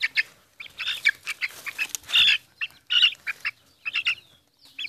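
Chickens and small chicks at a hen's nest give busy high-pitched peeping and chirping in quick irregular bursts, close by and fairly loud, with no voices.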